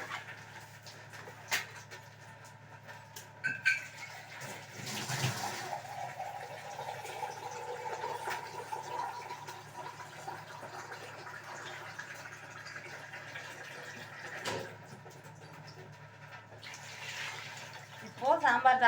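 Water pours into a pot of sambar being cooked, a soft splashing fill heard around the middle of the clip while someone talks over it, with a few clinks of the vessel.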